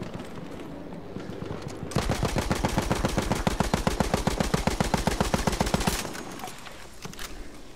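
Rapid automatic gunfire in the World War I shooter Battlefield 1 bursts out after a quiet start, a fast, even stream of close, loud shots for about four seconds before stopping abruptly.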